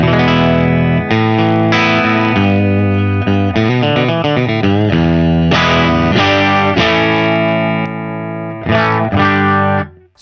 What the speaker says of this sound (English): so we can hear what the boost section does